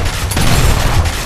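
Dense burst of gunfire and booms from a Gears of War Ultimate Edition multiplayer match, a continuous loud rattle of shots over a rumbling low end with no talk.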